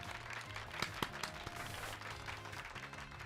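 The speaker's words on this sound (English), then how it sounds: "Give Pikachu a round of applause" Applause for Pikachu in the Pokemon Violet video game, a brief dense burst of crowd clapping heard close and fairly faint, with music playing beneath it.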